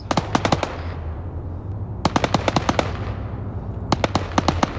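Automatic gunfire in the video game ArmA 3, three sharp, loud bursts of rapid shots, each about half a second long, with a low rumbling drone between them.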